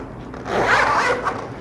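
A zipper on a Pakt One clamshell travel backpack is pulled open in one continuous rasping stroke of about a second, close and moderately loud, ending with a small final tug and no talking.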